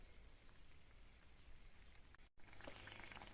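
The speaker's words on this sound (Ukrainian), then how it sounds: "опять дощ знову ляпотить" Rain falls outdoors as a soft, steady hiss with faint scattered drop patter, quiet and distant, briefly cut out for an instant before resuming slightly brighter.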